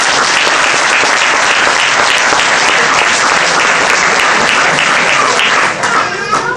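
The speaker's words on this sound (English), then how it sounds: "Let's give him a round of applause for being back." Loud, dense applause from an audience at the Liverpool Hare Krishna Gouranga festival, steady throughout and thinning slightly near the end.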